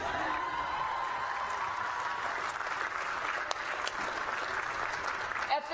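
Graduates at a spring commencement ceremony applauding and cheering, a sustained distant roar of clapping hands from a large crowd with occasional whoops, steady throughout.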